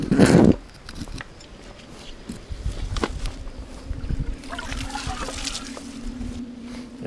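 Water from a solar well pump trickling and splashing at a slow rate of about a gallon a minute, a steady watery sound following a brief louder knock at the start.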